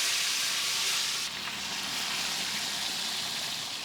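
Chopped green chilies and ginger garlic paste hit hot oil already spiced with garam masala for a dhaba-style mutton curry, giving a loud, steady, close sizzle and hiss that continues without a break.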